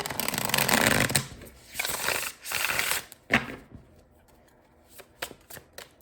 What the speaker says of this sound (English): a few more shuffles here.